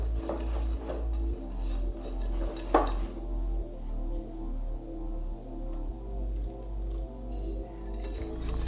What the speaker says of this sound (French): On va mélanger jusqu'à ce que notre pâte soit vraiment très liquéfiée